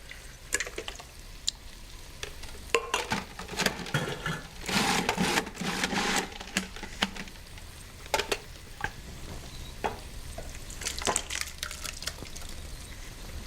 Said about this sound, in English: I'm going to put in 2 28-ounce cans of tomatoes.